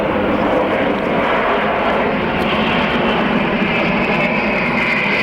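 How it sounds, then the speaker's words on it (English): At an air show at Matamata Airfield, the world's largest amphibious aircraft flies slowly past with flaps down, making a continuous, loud, broad propeller-engine roar that holds steady throughout. "This huge aircraft, as I've said again, the world's largest amphibious aircraft,"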